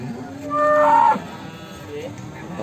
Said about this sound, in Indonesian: sapi jumbo dari pasar hewan